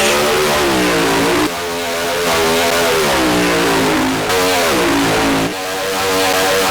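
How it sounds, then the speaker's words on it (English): Supercharged 1963 Corvette drag car making a soft launch down the strip alone, its loud blown engine roaring steadily and climbing in pitch through several gear changes. "Phil in the blown 63 Corvette going on by himself again with a very soft"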